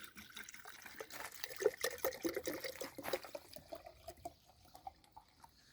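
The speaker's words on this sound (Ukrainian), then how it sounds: "заливаємо водою" Water splashes and trickles into a jar in an uneven, gurgling pour, close by and fairly quiet, then tapers off into faint drips.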